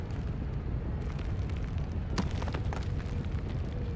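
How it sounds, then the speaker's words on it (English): A cannon booms in a Final Fantasy XIV battle, a deep rumbling blast with a sharp crack partway through, followed by a low sustained roar. "They've actually fired the cannon."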